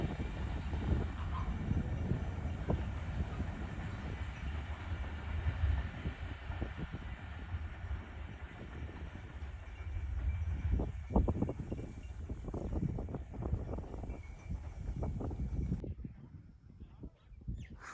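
A train rumbles past Ranpethani railway station in Thatta district, Sindh, a long steady roar with rattling wheel noise that cuts off near the end, and faint bird calls in the background.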